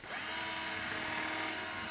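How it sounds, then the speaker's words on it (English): A power drill spins steadily while pre-drilling holes in a wooden beehive crown, a continuous close whirring drone lasting about two seconds with no pauses. "I've got 2 drills here with different"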